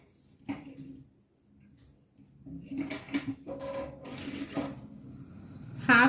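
A sewing machine stitches the seam of an Afghani salwar with a half-inch margin, in short uneven bursts of whirring and clicking that grow busier toward the end, with quiet pauses between them.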